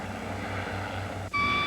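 A police helicopter flies overhead during a car chase, its steady low rotor thump pulsing evenly throughout before a sudden brief dropout and a sharper, brighter tonal whine at the end.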